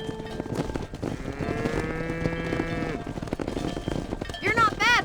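A cattle herd in Red Dead Redemption lows in a long, drawn-out moo, with bleats and clattering ranch sounds around it and a voice talking nearby.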